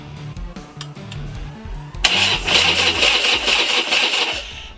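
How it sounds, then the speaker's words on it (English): A Sportster motorcycle engine cranks over: a rhythmic starter churn at first, then a sudden loud, dense roar as it catches and keeps running close by. "We're cranking. Motor sounds very healthy."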